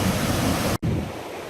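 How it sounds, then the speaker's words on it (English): Steady, loud roar of a waterfall on a rainforest river on Vancouver Island, a dense broadband rush that drops out for a split second and then continues slightly softer. "There's a fish down there in the water trying to jump up the waterfall."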